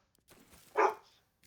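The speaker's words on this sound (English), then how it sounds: "Sorry for my dogs. They are mad at each other because they want each other's bones." Dogs fighting over rawhide bones let out one short, fairly quiet bark or yip indoors after faint rustling, with nothing else over it.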